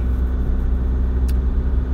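Engine and road rumble inside a moving 2017/2018 Isuzu D-Max AT35 Arctic Trucks edition pickup, a steady low drone that holds evenly for two seconds with one short brighter tick.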